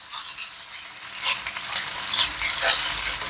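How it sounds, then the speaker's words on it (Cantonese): Pork ribs fry in hot oil in a very hot wok, giving a steady crackling sizzle with bursts of spitting that swell and fade over a few seconds. "跟住我哋就將個骨擺落去"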